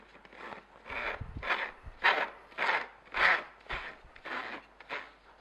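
Soft rhythmic rubbing comes from a base unit being twisted and screwed onto a Sana grain mill, about eight gentle scraping strokes in steady succession, close and quiet.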